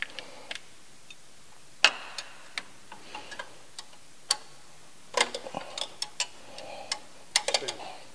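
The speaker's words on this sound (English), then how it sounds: "I just quickly loosened all of the six bolts" Half-inch, 13 millimeter bolts being loosened during a 3.6L Jeep turbo kit installation, heard as sparse, irregular sharp ratcheting clicks close by over a quiet background.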